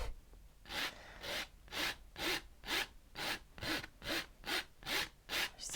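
Oil paint being scraped off a canvas painting of a cabin scene, a dozen rhythmic rasping strokes about every half second, close and fairly quiet, with no talking.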